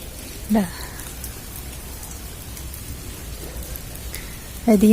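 Heavy rain pours steadily around a monastery at Sivagiri in Varkala, a dense continuous hiss of drops on surfaces, with brief voices talking near the start and end.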